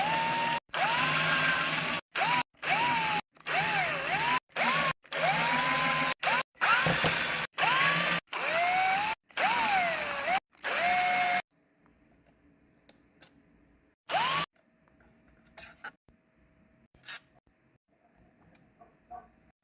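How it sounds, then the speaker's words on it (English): A power screwdriver removes screws from an Xbox Series X console, giving a series of short whirring bursts with rising and falling pitch separated by brief pauses, followed by quieter, sparse clicks and handling noises. "Let's open all screws."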